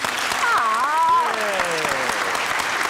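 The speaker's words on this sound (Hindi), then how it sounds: "क्यूट थे, तालियां बजाएं।" Studio audience applauding at a Pakistani comedy talk show, a steady dense wash of clapping throughout with a faint voice gliding over it.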